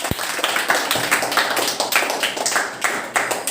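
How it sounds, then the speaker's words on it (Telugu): Schoolchildren clapping together in a classroom, a steady run of quick, slightly ragged claps lasting several seconds, close and fairly loud. "క్లాప్స్ కొట్టండి"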